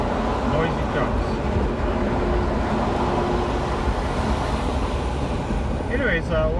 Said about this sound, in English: Passing these, noisy trucks.